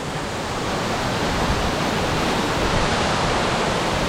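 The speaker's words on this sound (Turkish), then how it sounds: "Ve şelalenin çılgınlığına bakın." Loud, dense roar of rushing water from a nearby waterfall about 25-30 metres high, Haraz Waterfall in Turkey's Amanos Mountains, constant and enveloping with no pauses, cold wind blowing.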